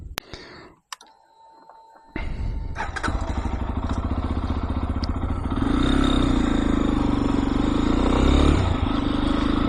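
A KPX motorcycle starts up after a few clicks and a brief quiet, then rides on with a loud, steady engine drone that builds as it picks up speed, mixed with wind and road noise.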